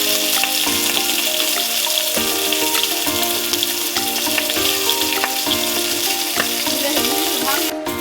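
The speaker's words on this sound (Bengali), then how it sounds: "এই যে মাছ ভাজি করা হবে।" Fish sizzles and crackles in hot oil in a pan, a dense, continuous frying hiss with occasional stirring clinks, close and loud throughout.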